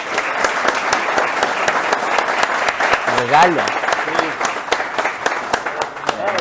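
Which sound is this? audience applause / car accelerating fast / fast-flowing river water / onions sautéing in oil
audience applause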